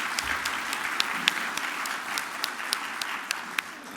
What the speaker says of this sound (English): I think we deserve to give a round of applause for Ben